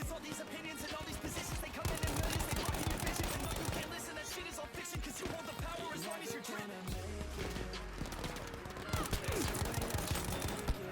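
Gunfire from the World War II shooter game Battlefield V rattles in rapid automatic bursts and single shots, near and loud, mixed with footsteps and game effects while a player talks over it.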